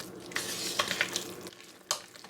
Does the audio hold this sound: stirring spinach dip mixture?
yes